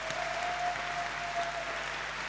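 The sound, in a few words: crowd applauding, standing ovation for wrestler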